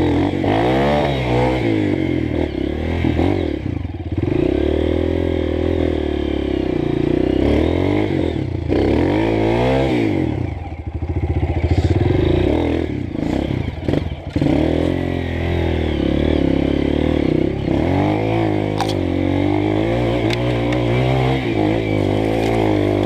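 Two Honda CRF 230 dirt bikes rev and strain up a wooded trail climb, their engines loud and close, rising and falling in repeated throttle bursts with no talk over them.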